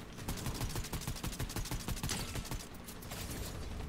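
Rapid, dense bursts of gunfire in the battle royale game Fortnite, with overlapping volleys and sharp repeated cracks layered over other game noise for the full stretch, loud and continuous with no one speaking.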